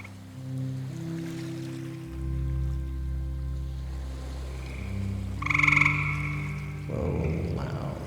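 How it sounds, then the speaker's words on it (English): A looped recording of a gray tree frog call plays as a loud, steady trill amid sustained synth drones, with a brighter burst near the end. "You ready for maybe gray tree frog call?"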